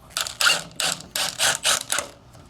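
Phillips head screwdriver turning screws into storm surge panel trim, heard as a close series of short ratcheting, creaking bursts in a quick uneven rhythm, with no talk.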